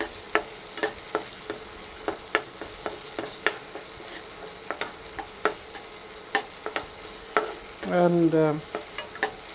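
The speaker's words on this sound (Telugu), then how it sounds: "కాస్త బాగా ఫ్రై అయ్యేంత వరకు ఒక 2 minutes మనం ఇక్కడ టైం స్పెండ్ చేద్దాం." Paneer egg bhurji with tomato fries in a pan while a spatula taps and scrapes in a regular rhythm of sharp clicks over a low sizzle; a short burst of speech comes near the end.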